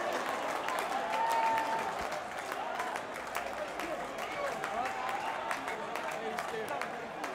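A large football crowd cheers and applauds steadily at a Dutch amateur match, Quick Boys against VVSB, with torches lit in the stands; dense roar and clapping throughout, a whistle-like tone rising briefly near the start.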